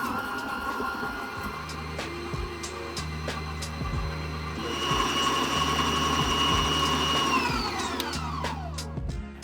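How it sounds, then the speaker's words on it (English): An electric mixer beats butter with brown sugar and caster sugar, a steady motor whir with a pitch that shifts midway and winds down at the end, alone without talk. "Now we want to mix this until everything is well combined and kind of creamy like."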